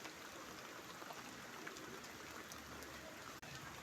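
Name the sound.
heavy rain falling on a cloudy day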